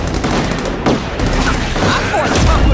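Gunfire in the Spider-Man 2 video game comes as loud bursts of rapid shots and thuds over a dense action backdrop, with a few sharper cracks spaced through the short stretch.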